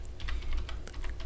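Rapid typing on a computer keyboard, a quick run of light, close key clicks with a few short pauses in between and no voices.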